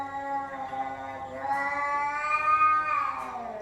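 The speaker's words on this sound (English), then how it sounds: "Ooh, that is one angry cat." An angry cat yowls in the Final Fantasy XIV video game, a long drawn-out caterwaul that rises and wavers over about three seconds, loud and close, with no talk over it.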